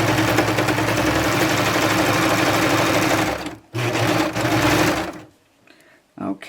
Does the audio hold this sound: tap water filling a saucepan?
no